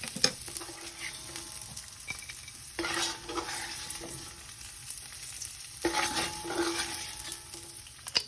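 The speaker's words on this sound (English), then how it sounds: "my bacon fat is rendering, and it's getting crispy" Bacon fat rendering in a big pot for arroz con gandules, a soft continuous sizzle with a few louder bursts of crackle and occasional stirring clinks, close by and without talking.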